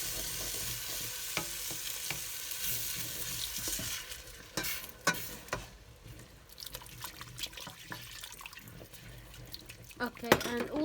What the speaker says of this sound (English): I'm going to add the milk.